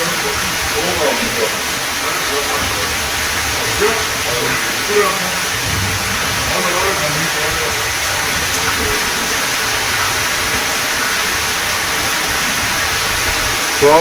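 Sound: heavy rain pouring down

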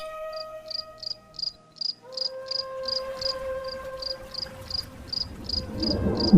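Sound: crickets chirping by a river at night

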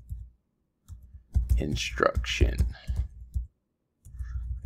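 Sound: typing on a computer keyboard

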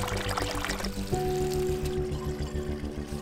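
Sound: water flowing through a DIY aquaponic system

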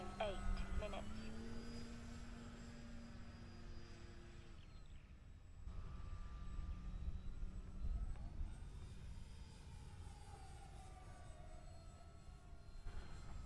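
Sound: E-flite Park Zone T28 1.1 m RC plane flying

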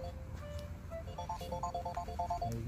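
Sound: telephone ringtone

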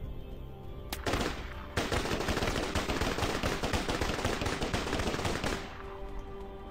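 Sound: gunfire from a gun in the video game Starforge

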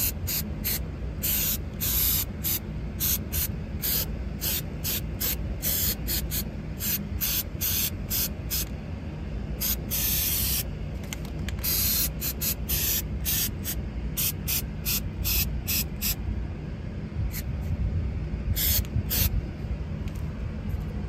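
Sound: aerosol sealant spray can spraying

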